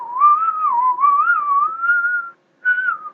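A whistling voice imitates little synth whistles from Mega Man Xtreme 2 music, a clear wavering melody held for a couple of seconds, a short pause, then a brief final phrase.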